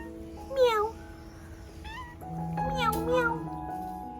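A cat meows several times in short, rising calls close by at a home where fish is being cleaned, answering a person who talks and imitates its meows.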